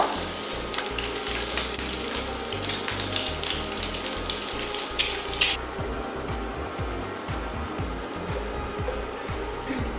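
Eggs frying in hot oil in a pan for a spicy egg and potato fry, a soft continuous sizzle with occasional crackles and a faint clink, heard alone without talk.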